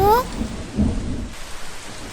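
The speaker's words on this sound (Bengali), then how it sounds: "টুনি আর তার ছানা বাইরে বৃষ্টিতে ভিজছে।" Cartoon rain pours steadily with a low thunder-like rumble, a loud wet wash that starts strongest and stays constant throughout, with a brief tonal sound at the very start.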